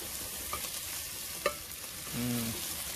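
Onions frying in a pan toward browning for a vegetarian thali, with a quiet steady sizzle, a light clack of a utensil and a brief stirring scrape near the end, heard up close with no talk.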